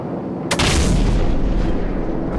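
Heavy gunship cannon fire in a combat video game erupts as a loud, dense boom and keeps roaring steadily for about two seconds after a brief quieter lead-in.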